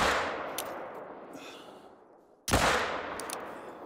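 Two sharp rifle shots ring out in theHunter Call of the Wild while hunting bison, each a loud sudden crack with a long decaying tail, spaced about two and a half seconds apart.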